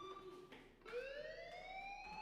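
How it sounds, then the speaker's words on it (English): An alarm sounds in the video game Life is Strange: a steady, electronic siren-like wail that holds then sweeps slowly upward in pitch, continuous and fairly faint, with no talk. "Hey, do you hear that fire alarm?"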